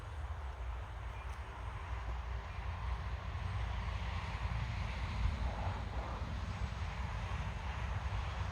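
A steady engine drone of a UMX Air Tractor propeller model airplane flying overhead holds throughout, fairly loud and even, with some wind rumble.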